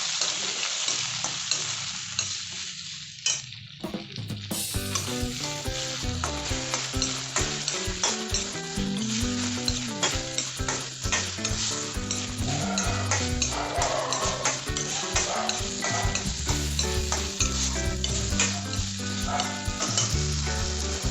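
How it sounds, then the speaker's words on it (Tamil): Tomatoes and dried red chillies sautéing in a pan for tomato garlic chutney: a loud, continuous close sizzle and crackle with frequent scraping and stirring clatter throughout, no talking. "தக்காளியும் சேர்த்து நல்லா வதக்கிக்கோங்க."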